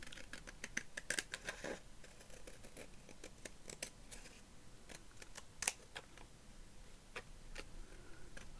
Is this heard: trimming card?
yes